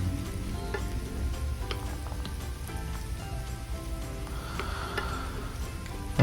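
Steady sizzling of seeds frying in hot oil for samosa filling, a continuous crackling hiss with scattered pops throughout.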